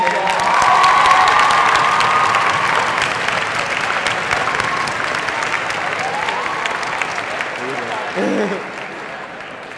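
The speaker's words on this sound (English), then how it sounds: "Everyone clap one more time for the great thing." Applause and cheering for a student at a 2014 senior recognition ceremony, a crowd clapping loudly with scattered shouts and whoops that gradually tapers over about ten seconds, with some voices audible underneath.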